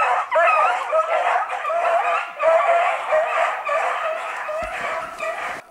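A pack of beagle harehounds on a hunt bark and bay together in a continuous, overlapping chorus, fairly loud and somewhat distant, with a crowing-like quality to some howls.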